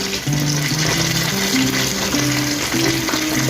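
Dumplings frying in a pan give a steady, close sizzle that holds for the whole stretch, with faint tonal sounds running underneath.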